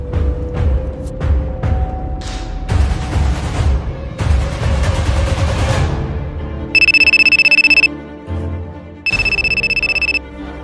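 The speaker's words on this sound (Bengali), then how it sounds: "স্যার আমার একটা ইমার্জেন্সি ফোন আসছে বাসার থেকে" A mobile phone rings with an incoming call in a place with cars nearby: two bright electronic ringtone bursts, each about a second long, sound clearly after a stretch of busy, louder background noise.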